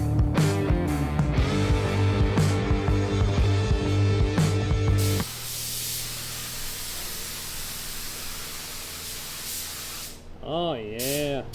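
Turbo spray cans used to paint a Honda car. The hissing spray takes over partway through, following a stretch of music and voices, and then stops abruptly at the end.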